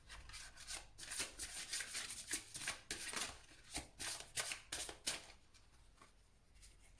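Oracle cards are shuffled by hand for a reading, making quiet, close riffling and sliding bursts in an uneven rhythm that thin out toward the end.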